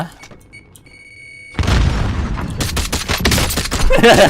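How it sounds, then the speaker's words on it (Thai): After a quiet moment, a sudden loud blast erupts as a door is blown open in Call of Duty: Warzone, giving way to sustained rumbling, crackling and rapid gunfire-like bursts, a game explosion up close. "เดี๋ยวผมระเบิดเปิดประตู"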